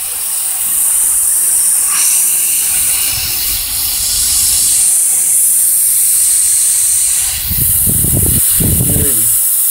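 A homemade mist coolant setup driven by compressed air sprays liquid from a small hole in a plastic tip, giving a loud, steady hiss with brief low rumbles near the end.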